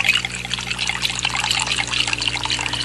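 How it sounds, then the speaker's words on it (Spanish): Water is poured from one container into another of a different size and shape, a continuous splashing trickle that runs steadily for a few seconds with no talk. "vacía el agua en otro recipiente de distinto tamaño y forma."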